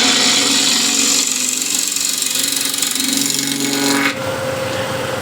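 A ball gouge cuts a wooden hexagon plate spinning on a lathe at about 1300 RPM, giving a loud, continuous scraping hiss over the motor hum that shifts in tone partway through as the cut eases.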